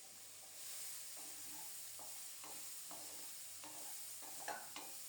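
Spices, green chillies, turmeric and a bay leaf fry softly in oil, a quiet steady sizzle broken by several light scrapes and taps of a spoon stirring, with no voices.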